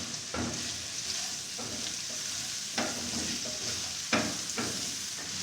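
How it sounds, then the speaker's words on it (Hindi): Carrots stir-frying over high heat in a pan, a steady close sizzle broken by several sharp scraping stirs spaced a second or so apart, with no talking. "अब इसके अंदर गाजर ऐड करेंगे और गाजर को भी अच्छी तरह पका लेंगे। सब्जियों को तेज़ आग पे पकाएंगे"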